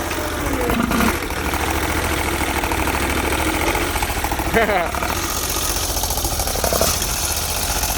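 A Bolens 1600H lawn tractor with a Briggs 20HP V-twin engine idles steadily close by, a continuous rough mechanical chug with slight knocking that holds level throughout, with a brief voice over it.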